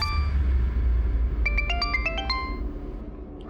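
A mobile phone rings with an incoming-call ringtone in a crime drama scene, a quick melodic run of bright electronic tones heard over a constant low rumble of background noise.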